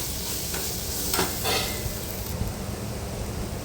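Ghati masala stirred into dal in a pan: a steady sizzle with soft scraping stir strokes, close and continuous, with no voices.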